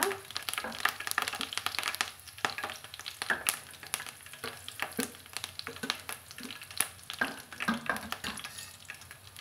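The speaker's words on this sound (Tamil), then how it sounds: "நம்மளுக்கு கருவேப்பிலைகள் நல்லா பொரியட்டுங்க" Curry leaves crackle and sizzle in hot oil for tomato pickle, a busy near frying sound with sharp pops and stirring clatter, no talking.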